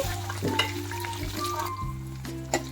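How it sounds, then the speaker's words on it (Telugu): Chopped onion pieces fry in oil with cumin and dried chillies for a mint tomato chutney. A steady, close sizzle runs under a low background hum, with a few brief stirring scrapes. "ఈ ఉల్లిపాయ ముక్కలు మనకి లైట్ గోల్డెన్ కలర్ వచ్చేంత వరకు ఫ్రై చేసుకోవాలి"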